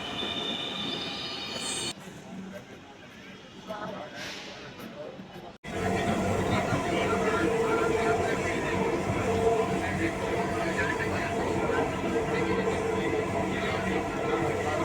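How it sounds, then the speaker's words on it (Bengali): A Dhaka metro rail train pulls into a station platform near Farmgate: a quieter hum gives way to a loud, sustained rumble with high wheel squeal as the cars roll in close by. "বন্ধুরা, মেট্রো রেল চলে এসেছে, আমরা এখনই মেট্রো রেলের ভেতরে যাবো।"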